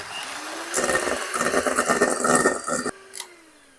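Electric mixer whipping egg whites with sugar toward peaks for a Lviv-style cheesecake: a loud, close motor whir with a churning, slapping texture for about two seconds, then it cuts off, leaving a faint hum and a brief clatter.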